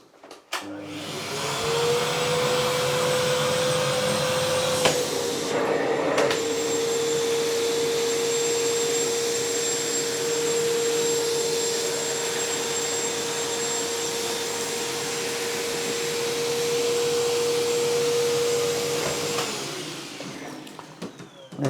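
An AmazonBasics vacuum cleaner runs steadily and loudly for about twenty seconds, a constant whine with a brief dip in pitch partway through, then spins down at the end, with no talking.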